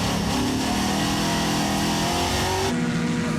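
Race cars, including a 1977 VW Scirocco, roaring past during a race, a loud, close engine drone with shifting pitch that cuts off sharply near the end.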